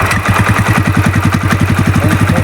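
A Bajaj Pulser N125, a 125 cc motorcycle, idles steadily after a smooth self-start, with a loud, close, even low putter and no talking.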